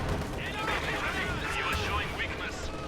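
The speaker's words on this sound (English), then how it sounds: "Anti-infantry strafe right there." An anti-infantry strafe in a real-time strategy game delivers dense, continuous gunfire and explosive rumble, loud and busy for a few seconds under an excited commentator's voice.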